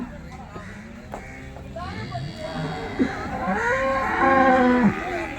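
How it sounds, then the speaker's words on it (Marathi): Cows at a busy cattle market, with several drawn-out moos rising and falling nearby over a noisy crowd background with people talking. "समोरची गाय पाहू शकतो"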